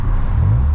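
A Honda Prelude engine with a newly fixed exhaust revs in neutral in one brief, loud, droning burst.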